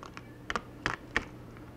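An old keyboard from a Toshiba Radius P55W laptop being lifted out, giving three or four quiet, close plastic clicks and taps in quick succession.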